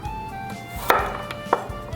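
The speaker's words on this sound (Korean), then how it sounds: "이 마늘은 얇게 슬라이스 해주세요." A kitchen knife slices garlic cloves thinly on a cutting board for an okra and garlic stir-fry, giving a few soft, spaced taps against a quiet background hum.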